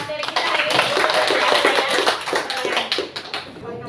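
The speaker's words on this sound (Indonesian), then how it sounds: "berikan aplaus dulu buat pemateri kita hari ini" An audience at a school session applauds a presenter with dense, steady clapping that fades near the end.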